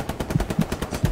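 Rapid automatic gunfire in a multiplayer shooter video game, a quick run of close, evenly spaced bursts lasting about a second with no talk over it.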